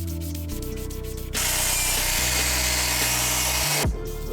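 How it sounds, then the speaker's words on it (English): A 3M headlight restoration kit's sanding tool works on a Porsche headlight lens, giving a loud, steady abrasive whirring rub that starts after a brief mechanical clicking and stops abruptly near the end. "you get the sander, or the sandpaper, and you sand off the headlights"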